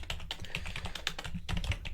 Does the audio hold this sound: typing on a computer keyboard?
yes